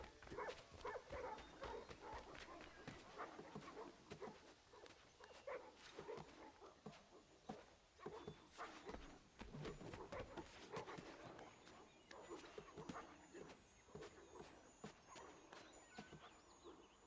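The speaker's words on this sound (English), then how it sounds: "Those sound like some fucking angry ass dogs," Angry dogs bark continuously in Assassin's Creed 3 Remastered, a dense, layered chorus of overlapping barks and yelps with no break throughout.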